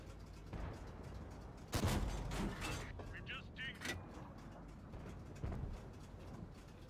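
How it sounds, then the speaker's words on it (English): A tank gun fires in World of Tanks, a single muffled, deep thump with a short rumbling tail, set against steady engine and battle ambience while someone talks over it. "We got muffled shot."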